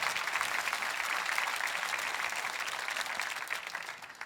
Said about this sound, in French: Vous devriez applaudir plus que ça.